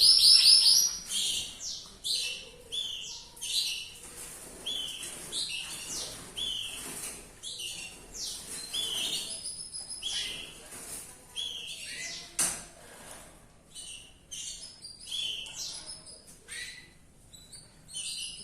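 Canaries chirp in quick high bursts, with many short bright tweets close by at an irregular pace and no talk.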